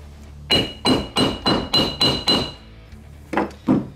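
A hammer strikes a leather rivet to flatten and round its stem: six evenly spaced sharp metallic taps, a short pause, then two more, close and crisp with ringing overtones.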